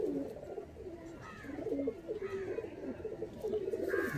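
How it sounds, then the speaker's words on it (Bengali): Pigeons in a loft of high-flying breeds coo softly in repeated low, throaty phrases, fairly faint and close, with a quiet room background. "এখন রেস্টে আছে এই নড় পায়রা গুলো"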